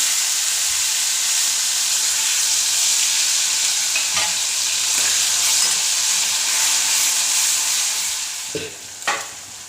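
Ground kharda paste with turmeric, mustard seeds and cumin fries in hot oil in a kadhai, a loud, steady close-up sizzle with occasional stirring scrapes and clinks.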